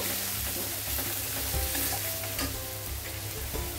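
Spices crackle and sizzle in a hot pan while a utensil stirs and scrapes through them, close and steady, with no voices.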